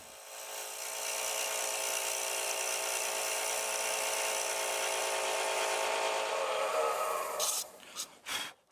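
A woodturning tool cuts a beaded rim bowl spinning on a lathe, producing a steady close whirring hiss that rises slightly in pitch, then stutters into a few uneven scrapes at the end.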